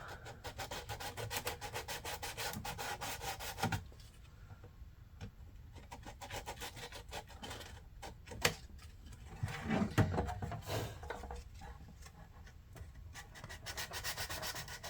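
Sandpaper rubbed steadily across a painted plastic 1/350 scale USS Enterprise model, a close, rapid back-and-forth scratching that pauses briefly and then resumes.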